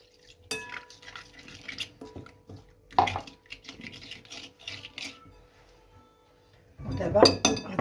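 A lemon juice mixture is stirred in a bowl, with a spoon clinking and scraping in short bursts near the start, the middle and loudest near the end, with quiet gaps between.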